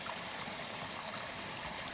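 Mountain stream water rushes down through channels from the slopes above a family cabin in Stranda, Norway, a steady close roar of flowing water with no voices.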